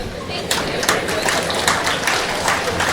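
Audience at a Tamil debate event clapping, a dense patter of many hands with rhythmic surges, close and fairly loud, with voices mixed in.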